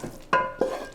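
Leeks are stirred into a bread and salmon terrine mixture, giving a soft background scrape and two distinct clinking strokes of a utensil against the bowl, quiet and close.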